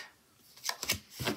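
Tarot cards being shuffled, heard as three quick papery riffles in close succession, close and fairly quiet, with no talk over them.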